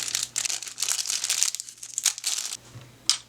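Crinkling and tearing of packaging as a Filco Majestouch Ninja mechanical keyboard box is opened, close-up rustles and crackles in bursts, ending with a sharp crunch.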